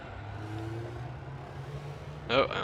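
A low spaceship engine hum in the video game Elite: Dangerous drones steadily with a faint rising whine during launch, then a brief louder whoosh near the end.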